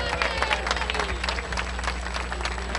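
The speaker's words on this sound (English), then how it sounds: "One last round of applause for world champion Falcon Sealster." Crowd applause at a harness racing track after a world championship race at Northfield Park, a dense burst of clapping with scattered cheers, heard close and fairly loud.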